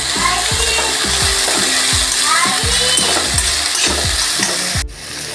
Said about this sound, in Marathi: आता आपण त्याच्यामध्ये टोमॅटो टाकूया आणि थोडासा हलकासा कलर येण्यासाठी आपण तो भाजून घ्यायचा आहे।